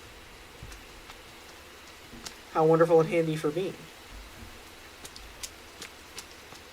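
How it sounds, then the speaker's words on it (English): Rain falls in a forest video game as a soft, steady hiss in the background, briefly overlaid by a short spoken phrase. "Oh, the rain will fill my water supply."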